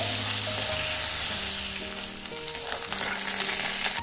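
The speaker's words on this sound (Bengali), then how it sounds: "বেগুন আলুটাকে আমি একটু ভালোভাবে ভেজে নেব" Long-cut potato and eggplant pieces fry in oil in a pan for a vegetarian chorchori, giving a loud, continuous sizzle with no voices.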